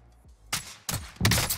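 Gunfire in the Warzone video game, set in Brazil: three loud bursts of shots with sharp onsets at roughly even intervals, the last one the heaviest, after a near-silent start.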